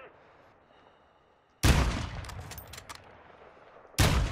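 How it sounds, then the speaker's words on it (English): Video game gunfire erupts in a loud, dense burst partway through, rattling on for a couple of seconds before a second sharp blast near the end; the opening stretch is quiet. "Is that you shooting?"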